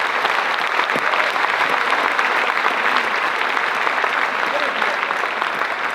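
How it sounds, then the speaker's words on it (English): Sustained applause from a large event audience honoring agents and staff with more than twenty years of service, dense steady clapping filling the room at even loudness throughout. "Let's give them a big round of applause"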